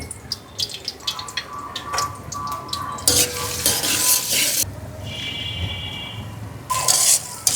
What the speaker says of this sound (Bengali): পেঁয়াজ আর কাঁচামরিচ ভাজা হয়ে গেছে